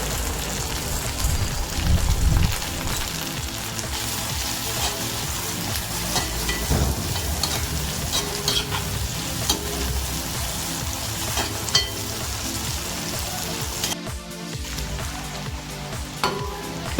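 Green chillies, torn into small pieces, sizzle and fry in hot oil for a spicy green chilli chutney, a steady crackling hiss with occasional stirring scrapes, close and continuous throughout.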